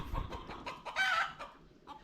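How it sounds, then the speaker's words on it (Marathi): A rooster crows nearby in a village in the morning, a short strained call standing out over faint farmyard background noise. "कोंबडे बघा"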